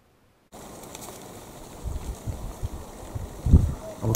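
Wind picking up outdoors during daytime pest shooting in the countryside: a steady rushing background with low, rumbling gusts buffeting the microphone, growing stronger toward the end.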